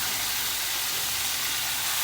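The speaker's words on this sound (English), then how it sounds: "Hear the sizzle. That's the part we wanna hear." Tacos in a hot skillet give a steady, bright sizzle that hisses continuously, close and even, with no talking.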